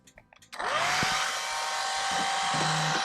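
A hair dryer clicks on and settles into a steady, loud whoosh of blown air with a constant motor whine, used to heat a temperature sensor on an Arduino bench setup, with small handling knocks before it starts.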